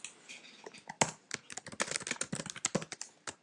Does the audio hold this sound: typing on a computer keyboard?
yes